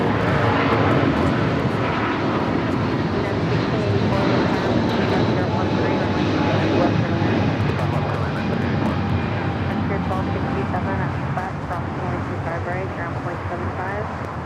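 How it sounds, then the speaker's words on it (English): A United Boeing 777 jet takes off at LAX with a loud, sustained engine roar that holds steady throughout and eases slightly near the end. "We do have a 777 taking off with United."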